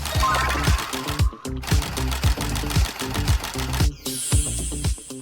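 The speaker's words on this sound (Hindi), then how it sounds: "अब मशीन से इसे अच्छे से सिलेंगे।" A sewing machine stitches doll clothes, a small pair of shorts, with a loud, fast, rhythmic mechanical chatter. It pauses briefly, then resumes, and a high steady tone joins near the end.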